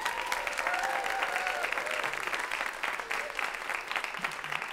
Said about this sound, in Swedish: Så en stor varm applåd för Rodrigo Arcos.